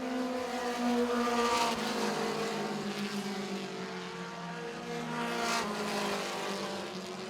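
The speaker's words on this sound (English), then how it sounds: "in the late stages of this feature race for the mini stocks" Mini stock race cars run a night feature race at Baer Field Motorsports Park, their engines droning loudly and steadily, with the pitch swelling and easing as they pass.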